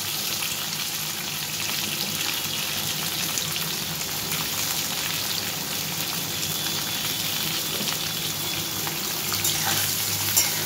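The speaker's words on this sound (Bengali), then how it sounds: "একটু ভাজা করে নেব" Vegetables fry in hot oil tempered with mustard seeds and dried red chillies, giving a continuous dense sizzle with occasional stirring, steady and close throughout with no one talking.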